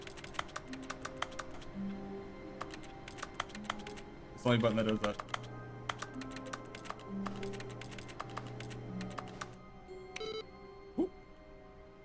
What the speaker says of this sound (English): every time I hit E, literally sounds like someone's typing